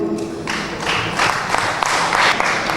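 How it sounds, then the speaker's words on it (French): An audience at a political gathering of communists in Cotonou, Benin bursts into applause after a short pause, a dense, sustained wash of many hands clapping together, fairly loud and close, with no voices over it. "Il faut les applaudir."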